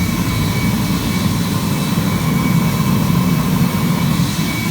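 A home-built foundry burner fired on vegetable oil roars steadily, a loud continuous jet-like rumble with a faint whine riding on top, heard alone without talk.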